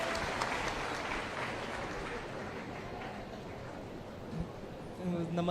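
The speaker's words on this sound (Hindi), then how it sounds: "जोरदार तालियां।" Audience applause at a Rajasthan youth event with the Chief Minister after a student's NEET ranking is announced, a steady wash of clapping lasting several seconds, moderately loud, with a brief voice near the end.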